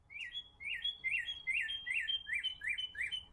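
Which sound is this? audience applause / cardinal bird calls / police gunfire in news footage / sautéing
cardinal bird calls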